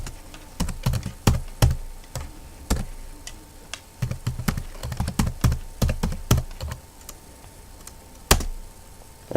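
Fast, uneven typing on a computer keyboard while entering a username and email on an Ubuntu 12.04 setup, with dense clusters of sharp key clicks, brief pauses and one louder keystroke near the end.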